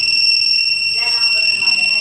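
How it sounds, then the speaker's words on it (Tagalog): A two-way anti-theft alarm on a motorcycle sounds when the bike is moved, giving a loud, steady pair of piercing electronic tones that hold unbroken for two seconds, with a faint voice murmuring beneath midway. "Ito na lang ang alarm. Ito na mag-alarm."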